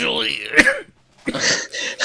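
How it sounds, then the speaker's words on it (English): A throaty cough or throat clearing breaks through a voice, followed by a short pause and then more speech. "As I wait on you coughing up half your lung"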